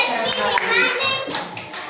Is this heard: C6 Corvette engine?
no